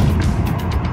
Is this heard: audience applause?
no